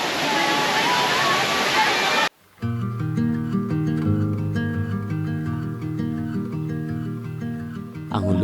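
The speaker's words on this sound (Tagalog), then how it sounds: "Ang Hulugang Falls ay isa sa pinakasikat na talon sa Barangay San Salvador sa Luciana, Laguna." Hulugan Falls in Barangay San Salvador, Luisiana, Laguna roars as a loud, dense rush of falling water for about two seconds, then cuts abruptly to music.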